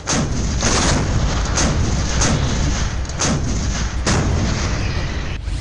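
Repeated loud cannon blasts boom one after another at a steady pace, their deep rumbling echoes filling the space between shots.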